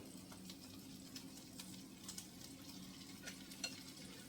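Smoked crab cakes fry in a thin pan on an electric stove at a beachside spot, a faint steady sizzle with scattered soft pops and light scraping from stirring, no talk over it.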